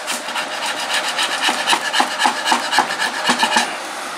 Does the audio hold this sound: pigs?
no